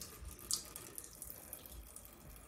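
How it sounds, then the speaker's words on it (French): Indoor kitchen or bathroom water tap running so a cat can drink: a quiet, steady trickling stream with small splashes and gurgles throughout, no talking. "Elle veut que je lui allume le robinet."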